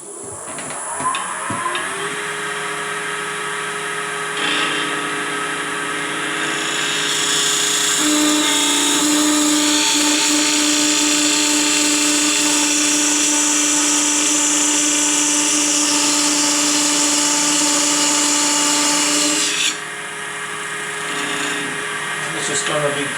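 A parting tool cuts into a spinning rolling pin blank on a wood lathe, a loud steady whine and scraping hiss building in the middle and easing near the end as the motor hums on.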